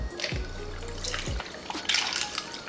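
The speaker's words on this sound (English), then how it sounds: "we're gonna go ahead and pour that into the glass" Club soda and a turmeric refresher mix poured into a glass for a cocktail, a steady close liquid stream with splashing and fizz, a couple of brief interruptions, no talking.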